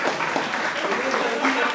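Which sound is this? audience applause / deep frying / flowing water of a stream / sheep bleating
audience applause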